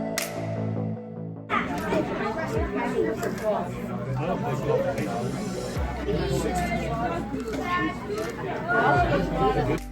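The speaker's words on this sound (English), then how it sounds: "the kids around me wouldn't shut the fuck up" Loud, constant chatter of many children fills a pizza restaurant on the South Shore, a dense overlapping babble of voices with occasional louder shouts throughout, preceded by a brief moment of quieter sound at the start.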